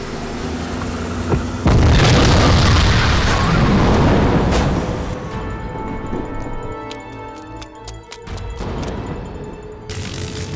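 A rigged car blows up with a sudden massive boom, followed by a long roaring, crackling burn and scattered debris clatter that slowly tapers off before a second swell of rumbling noise near the end.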